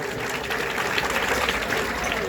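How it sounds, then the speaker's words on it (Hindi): Audience clapping for a young girl at a Hindu religious katha recital in Tigriya Khadar, a steady, dense wash of applause lasting throughout at moderate level with no speech over it. "ताली बजाओ एक बार बेटी के लिए।"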